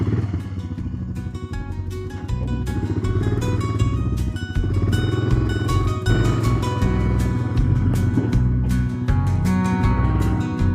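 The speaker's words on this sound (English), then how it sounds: "go for a nice little quad ride" ATV quad bike engine running steadily while riding, loud and close, with a continuous droning roar that rises slightly in intensity, accompanied by clattering over rough ground.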